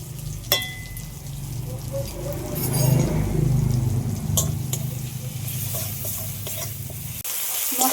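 Tomato frying with cumin and coriander powder in a pan: a steady close sizzle with repeated scraping and knocking of a spatula stirring against the pan.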